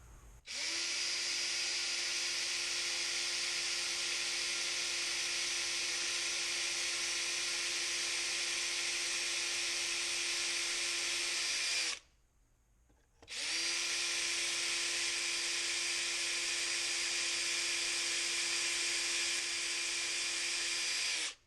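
A power drill whines steadily as it bores a hole in a Corona 3354 weeder, running for about twelve seconds, stopping briefly, then running again at a constant loud pitch.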